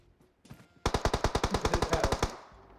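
Rapid automatic gunfire in the PUBG Mobile battle game, a fast burst of about fifteen evenly spaced loud shots following a couple of softer earlier sounds, fading into a brief tail.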